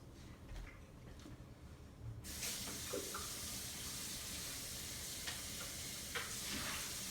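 Tap water runs steadily into a sink as a Vitamix blender is rinsed, a broad rushing splash that starts abruptly and continues loud and close, with small clinks of the container underneath.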